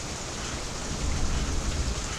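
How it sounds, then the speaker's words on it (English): Steady rain falls in a dense, even hiss with no talking, swelling slightly louder partway through. "it's been raining for the past few days"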